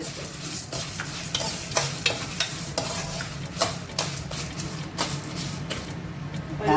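Urad dal and red chillies frying in hot oil in a pan, a steady close sizzle broken by sharp scraping strokes of a spatula throughout, with no talking.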